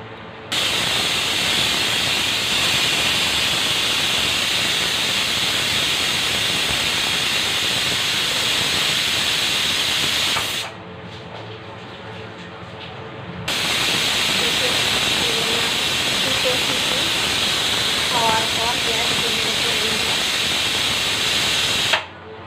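A pressure cooker hisses loudly with escaping steam while lentils with bottle gourd cook, a continuous harsh hiss that drops away for a few seconds and then returns.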